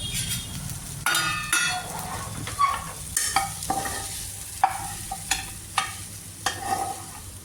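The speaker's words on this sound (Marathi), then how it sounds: "थोडंसं परतून घ्यायचं याला." A green peas mixture sautés in a pan under a steady sizzle, broken by repeated scraping strokes of a spoon stirring, close and fairly busy, with no talking.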